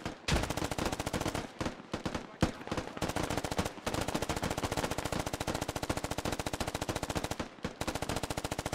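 Gunfire in the military shooter game Squad, with long sustained bursts of rapid automatic fire running almost continuously, broken by a few short pauses, loud and close.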